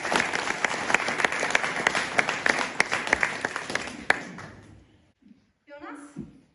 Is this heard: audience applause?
yes